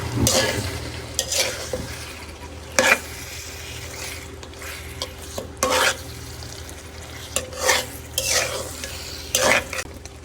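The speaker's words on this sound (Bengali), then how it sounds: "মাংসগুলোকে দেওয়ার পরে এগুলোকে ভালোভাবে নেড়ে ছেড়ে দেবো এবং ভালো করে কষাবো" Mutton being stirred and fried in spices in a pan for a kosha curry, a low continuous sizzle broken by repeated scraping strokes of a spatula against the pan, close and fairly loud, no talking.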